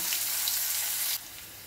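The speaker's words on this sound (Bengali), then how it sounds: "এবারে পেঁয়াজ কুচিটা একটু লাল লাল করে ভেজে নেব" A steady hiss of chopped onions frying in hot oil until reddish, close by, dropping a little in level near the end.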